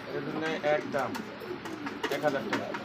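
A restless Beauty Homer pigeon, a male, gives soft cooing calls in short bursts, close by, with someone talking over them throughout.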